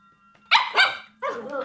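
A dog barks twice in quick succession, loud and close, then gives a third, longer bark-like yelp after a short pause, with no talking over it.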